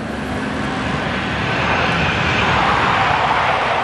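An F-18 military jet on final approach during Canadian military pilot training makes a steady, loud, broad roar of engine noise that swells slightly over a few seconds, with no voices.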